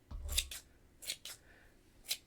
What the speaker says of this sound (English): I always try to trim the edges a little bit shorter